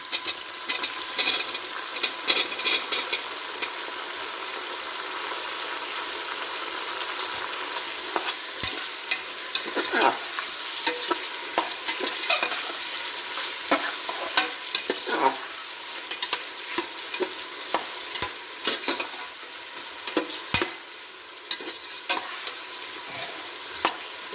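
Mushrooms fry and sizzle in a pan for mushroom biryani, with a steady broadband hiss broken by scraping stirs and small pops throughout, close and fairly loud, no voices.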